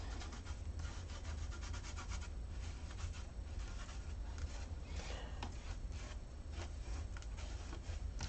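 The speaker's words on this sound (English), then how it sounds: "Take your finger and kind of rub them into the glue." Steady close-up rubbing of gilding flakes into sticky glue with a bare finger, a continuous soft scratchy friction with no talk.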